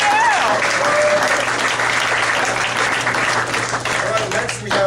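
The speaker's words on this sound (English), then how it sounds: "So let's hear a round of applause." An indoor crowd at a lab gathering gives a sustained round of applause. The clapping is dense and even throughout, with a low steady hum beneath it.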